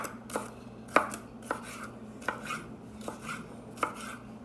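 A dull knife slicing peppers on a cutting board, with about eight distinct, fairly sharp chops at an uneven but steady pace, close by and with no speech.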